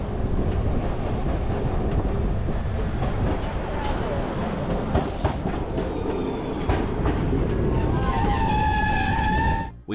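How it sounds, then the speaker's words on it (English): Heritage W-Class City Circle tram in Melbourne rolling along with a loud continuous rumble, sharp metallic clacks over rail joints, and a wheel squeal rising near the end. "We jumped on the City Circle tram to get out to our lunch spot"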